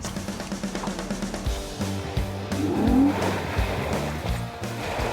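A stock Jeep JK on aftermarket tires and wheels climbs an off-road obstacle under throttle. The engine labours and revs up and down with rumbling tire and drivetrain noise, loud and close, with no talk.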